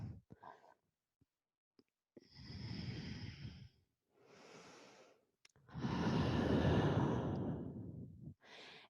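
Deep breaths during a gentle qigong stretch into a lunge: a few long, loud sighing exhales and inhales alternate with short pauses, close and with no talking.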